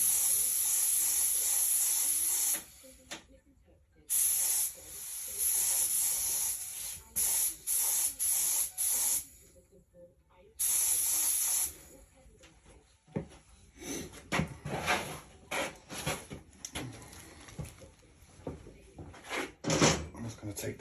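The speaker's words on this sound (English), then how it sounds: "check the spray pattern." A spray gun sprays paint onto a part for a Kawasaki ZX9R track bike. It makes several loud hissing bursts of a few seconds each, broken by pauses, with quieter clicks and handling noises after them.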